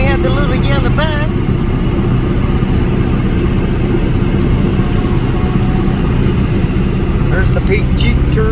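A little yellow bus at the Shades of the Past 2021 car show in Pigeon Forge, Tennessee, runs with a steady, loud low engine rumble, while brief voices chatter faintly near the start and end.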